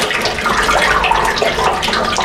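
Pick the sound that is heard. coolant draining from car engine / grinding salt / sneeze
coolant draining from car engine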